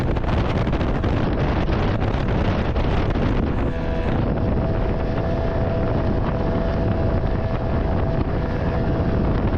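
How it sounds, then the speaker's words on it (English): Wind roars constantly against the microphone on a boat on the Breede River, a loud, steady rush with a faint low hum running underneath. "the wind's picking up"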